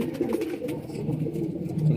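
Pigeons of a Teddy and striped cross-breed coo in low, throaty, rolling calls from close by, a brief continuous murmur with no talking.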